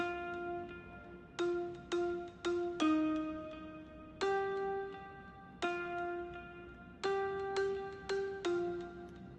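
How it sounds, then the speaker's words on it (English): A soft, plucked synth guitar tone doubled by mallet-like marimba notes plays a gentle repeating reggae melody, each note decaying quickly, with no voices. "simple synth guitar layered with kind of a marimba sound"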